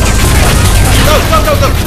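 Turret fire from Portal 2, a dense rattling burst of automated gunfire filling the whole moment, loud and continuous, with a voice shouting over it.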